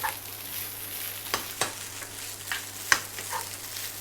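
Continuous sizzling in a hot wok with periodic scraping and tossing sounds as jasmine fried rice with pork and Chinese sausage is stirred and flipped, no voices.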